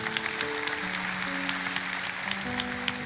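Congregation applause for Jesus during a church Bible study, a steady wash of clapping spread across the room with sustained organ or keyboard tones held underneath.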